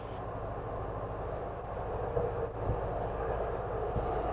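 Steady drone of a small airplane's engine on short final to runway 10 at Marion County, a continuous loud rumble with slight swells and no voices.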